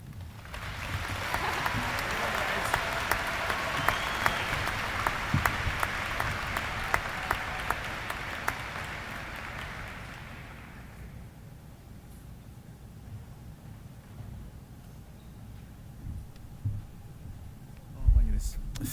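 Audience applause at a high school commencement ceremony: sustained clapping from a large crowd that fades out after about ten seconds, leaving room tone and a brief thump near the end.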